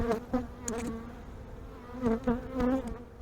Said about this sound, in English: So look right here where these bees are clustered.